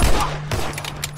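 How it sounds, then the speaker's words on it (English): Gunfire in The Last of Us during a gunfight, a short dense stretch of shots and impacts over a steady low hum, loud and close. "Not the gunfight now."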